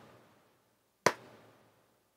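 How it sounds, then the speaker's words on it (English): A single sharp hand clap, close and crisp, with a short room decay after it and silence before. "Watch what happens when I clap."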